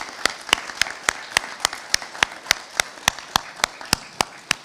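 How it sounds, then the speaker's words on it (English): Claps for the cadre at an Army ROTC commissioning ceremony, heard as a slow, evenly spaced series of sharp single claps, about three or four a second, close and distinct over a faint background wash. "If everyone would just give a round of applause to them."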